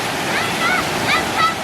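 A large sliding waterfall pours down bare rock at Stone Mountain State Park, a steady broad rush of water with faint voices briefly heard over it.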